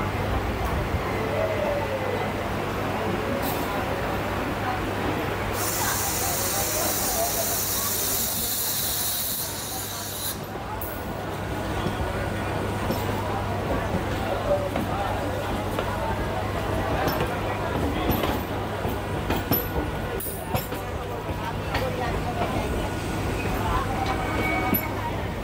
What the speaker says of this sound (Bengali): আমাদের ট্রেন যথাসময় অর্থাৎ 7:53 শিয়ালদা স্টেশনে 6 নম্বর প্ল্যাটফর্ম থেকে ডিপার্চার নিচ্ছে